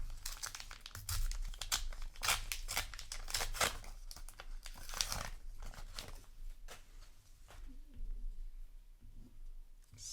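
A Flesh and Blood booster pack's foil wrapper is torn and crinkled open up close, a run of sharp crackling rips and crumples in uneven bursts that taper off toward the end.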